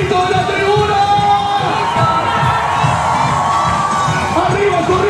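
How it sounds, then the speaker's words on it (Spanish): A carnival grandstand crowd in Corrientes shouts and cheers loudly and steadily, dense whoops and children's yells blending into a continuous roar throughout. "¿Y dónde está el grito de la tribuna?"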